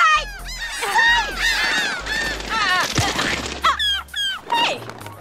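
Cartoon seagulls let out loud, close, overlapping squawks and honking cries in rapid bursts, with a voice briefly mixed in among the calls.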